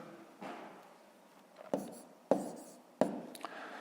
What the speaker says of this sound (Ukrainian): Отже, записуємо 13 цілих.